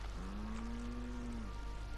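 A cow moos once inside a spaceship in a video game, a single long, steady low call that rises slightly and holds before trailing off, set against a constant hum of ship ambience.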